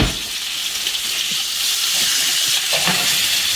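Steak frying in a pan gives a steady, close sizzle and hiss throughout, with faint scraping and stirring touches near the end.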